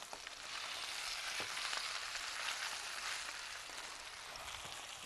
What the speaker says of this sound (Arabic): هحمر فيها الشعريه شويه بس